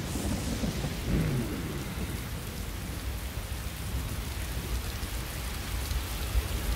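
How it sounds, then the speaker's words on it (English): A thunderstorm in a Dynasty Warriors 9 cutscene, with a deep rolling thunder rumble near the start over steady, dense rainfall that continues as an even hiss. "The sound effect of the lightning."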